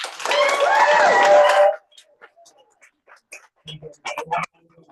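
A book-launch audience applauds author Cale Plett with a dense burst of clapping and raised cheering voices that stops abruptly after about two seconds, followed by faint scattered noises and murmurs.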